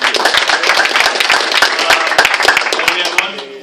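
Audience applause for graduates at a 2016 graduation ceremony: a dense, steady round of many hands clapping that holds loud throughout and tapers slightly at the end.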